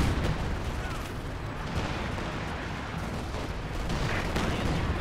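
High-explosive rounds firing in a World War II strategy game on the Port of Hamburg map, with dense, continuous booming and rumbling of artillery and gunfire throughout, loud and close.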